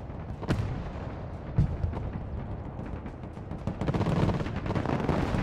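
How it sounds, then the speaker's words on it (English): Gunfire in combat in the video game Broken Arrow, with sharp individual shots and heavy booms scattered at first, building into denser rumbling fire toward the end. "We're under fire!"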